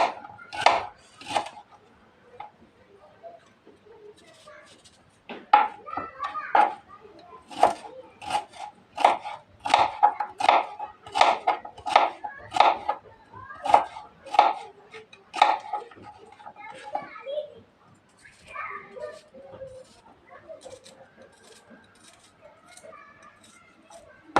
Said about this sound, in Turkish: Onu da şöyle ince ince kıyıyorum.